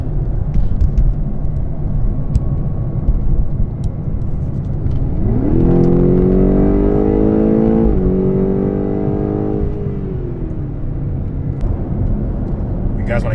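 Tuned BMW X5M SUV on BM3 93-octane tune accelerating hard through gears on a highway, a rising engine roar climbing in pitch with a brief drop at a shift, heard from inside the cabin over steady road noise.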